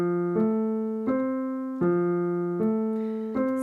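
Piano notes rolling out one after another as a broken chord, repeating in a steady pattern with each new group starting about every three-quarters of a second.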